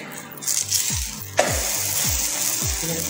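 Oil sizzling and frying in a pan during Moroccan home cooking, a steady hiss that swells sharply partway through and then holds loud and close, with no talking.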